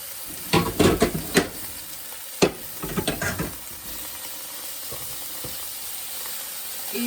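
Water poured into a pot of searing beef ribs: sharp bursts of crackling sizzle and clatter come in two clusters, then settle into a quieter steady simmering hiss.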